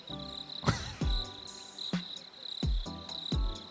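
A steady high cricket chirp runs throughout, with several sharp knocks or taps breaking in at intervals.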